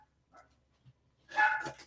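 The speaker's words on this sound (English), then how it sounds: "my dog is now barking at me down there" A dog barks several times from somewhere below the room, a faint early yip followed by a louder cluster of barks near the end, slightly distant, with no talk over it.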